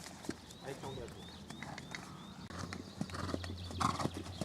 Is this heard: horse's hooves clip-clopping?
yes